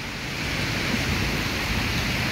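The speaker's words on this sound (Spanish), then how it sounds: "está lloviendo" Steady rain pours down outdoors near a hospital in San Miguel, a dense, even hiss that fills the whole moment without a break.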